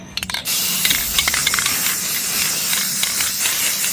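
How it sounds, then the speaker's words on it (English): White spray paint hisses steadily from an aerosol can onto a small bunny garden figure, a continuous close, loud spray that follows a few quick rattling clicks at the start. "and so I'm going to spray him white."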